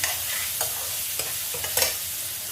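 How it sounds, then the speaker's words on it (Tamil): Onion sautés on medium flame for green peas poriyal, sizzling steadily in a pan while a spoon stirs it in several sharp, distinct scrapes, close and with no talk. "அடுப்பை இப்போ கொஞ்சமாக மீடியம் ஃப்ளேமில் வச்சுக்கலாம். ஆனியன் நல்லா வதங்கிறதுக்காக"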